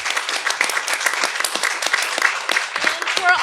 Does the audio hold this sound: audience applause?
yes